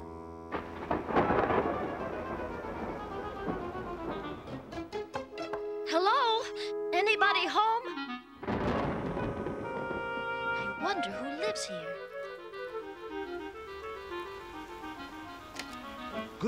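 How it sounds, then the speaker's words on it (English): Thunder rumbles and rain falls during a rainstorm in a Wizard of Oz film, mixed under music and people talking throughout. "We'll just wait out the rainstorm here."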